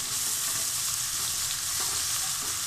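Ginger and garlic frying in hot oil for chicken biryani, a steady dense sizzle with faint scraping underneath, close and continuous.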